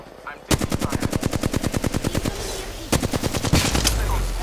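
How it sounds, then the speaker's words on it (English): Rapid automatic gunfire in the video game Apex Legends, a long burst of evenly spaced loud shots followed by a second shorter volley, close and dominant over faint background. "The enemy squad is firing on us."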